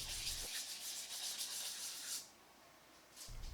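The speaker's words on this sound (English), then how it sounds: "only a light sanding on the edges and one face is necessary. I used 220 grit" Wooden coasters being lightly sanded on edges and faces with 220 grit sandpaper, a soft rapid rubbing hiss that runs for about two seconds, stops, then briefly resumes, close and quiet.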